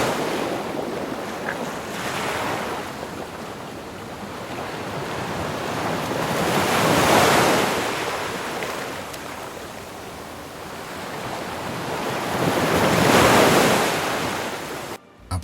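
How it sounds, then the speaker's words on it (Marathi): Calm sea waves roll onto Karde beach in Dapoli as a continuous surf wash that swells and eases in slow surges, with some wind buffeting the microphone and no voices. "शांत समुद्र पाहतो"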